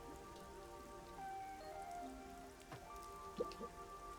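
Rain falling in a video game, a soft, steady patter with scattered droplet ticks, faint and alone with no talking, and some quiet tonal game sounds mixed in.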